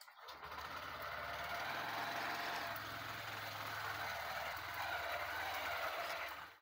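A Honda SP 125 motorcycle engine runs steadily and close by with a continuous low hum, mixed with broadband road or wind noise throughout.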